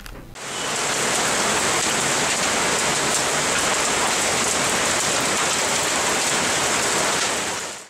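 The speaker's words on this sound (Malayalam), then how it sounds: "വേനൽ ചൂടിന് ആശ്വാസമായി പുൽപ്പള്ളി മേഖലയിൽ ശക്തമായ വേനൽ മഴ" Heavy summer rain pours down in the Pulpally area of Wayanad, a dense, steady roar of drops hitting surfaces that swells in at the start and holds unbroken to the end.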